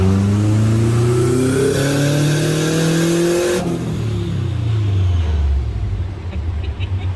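A Subaru STi with a billet VF48 turbo and external wastegate makes a low-boost dyno pull at 1.1 bar, the engine roaring loudly as it climbs steadily through the revs, then cutting off and sinking to a low idle rumble.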